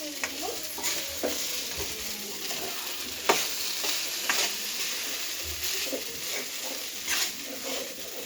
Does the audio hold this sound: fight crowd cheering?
no